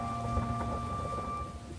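Rain falls as a sound effect under a French children's story about the ugly duckling, a steady close hiss with a faint low rumble and a soft tonal hum, no voice.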